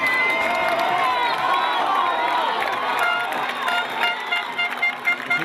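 A fairly packed terrace crowd at a Wicklow county football final between Pats and Baltinglass, a broad steady roar of murmuring and cheering, with a commentator talking over it and scattered claps near the end.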